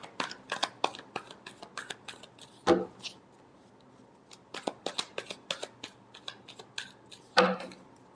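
Tarot cards being shuffled by hand in a series of crisp riffling, slapping bursts, close and fairly quiet, with two louder riffles standing out.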